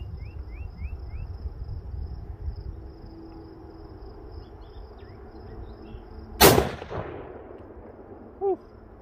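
A single loud, sharp gunshot from a Mosin rifle fitted with a muzzle brake rings out outdoors, with a short echoing tail, amid faint insect chirps and quiet ambience.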